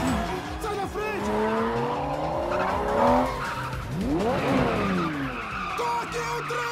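Fast car skidding with tires squealing in several sharp, sliding screeches, pitch bending up and down, over engine roar and general commotion, loud and close.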